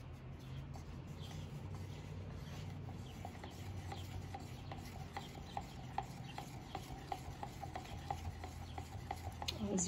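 Epoxy resin stirred in a cup: soft scraping and rubbing with quick, repeated clicking taps that speed up and grow sharper toward the end, close and fairly quiet.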